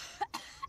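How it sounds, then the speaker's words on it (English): A Sim in The Sims 4 gives a short, close cough in two or three quick bursts, alone over faint game background hum. "Why are you coughing?"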